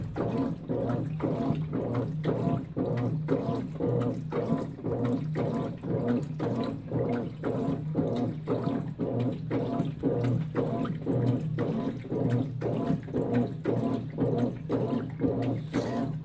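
A Consul 16 kg washing machine fills with water on a full cycle at the high water level, giving a steady, continuous rush of water with a soft rhythmic pulsing throughout, moderately loud and close, with no talking.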